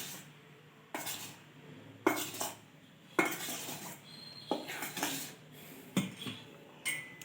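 Flour is folded gently into cupcake batter, with a quiet soft swishing broken by several distinct clinks of a utensil against the bowl, no voices.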